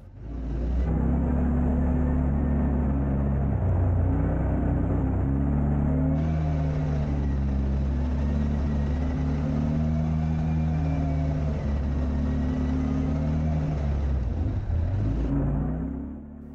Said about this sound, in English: Despite this being a small older quad, it still gets around and it's so much fun to ride.